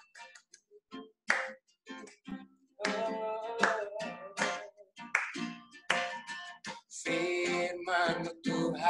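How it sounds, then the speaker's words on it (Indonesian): Congregation at a church worship service clapping along to a hymn, rhythmic hand claps mixed with singing voices throughout. "Tepuk tangan jangan lupa ya."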